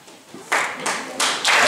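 Applause rises in a few swelling bursts at a poetry almanac presentation as authors are introduced, loud close clapping building over under two seconds.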